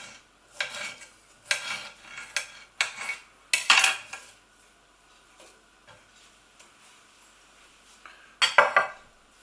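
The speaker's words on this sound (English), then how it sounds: "So we've stirred in half of that squash" A spoon scrapes and clanks in a pot as chopped squash is stirred into a chickpea curry over low heat, giving several irregular metallic bursts separated by quieter pauses, close and clear, with no talking.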